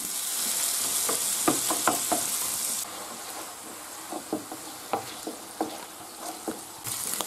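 Squid sautéing in a pan for arroz a banda: a steady close sizzle and hiss of frying, with soft scraping stirs and light utensil taps against the pan, and the hiss drops in level partway through.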